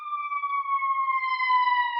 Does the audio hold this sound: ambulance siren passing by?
yes